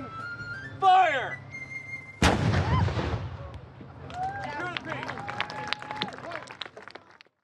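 A historical reenactment volley of muskets goes off as one loud, sudden blast after a shouted command. A crowd then cheers and chatters, with birdsong in the background.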